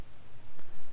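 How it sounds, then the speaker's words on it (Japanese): Rain falls steadily in a video game scene, a soft, even hiss of drops heard on its own. "雨降ってる。"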